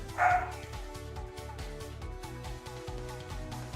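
Two small puppies bark and yip in quick bursts from a nearby room, the yaps fairly faint and repeated over a steady low background hum.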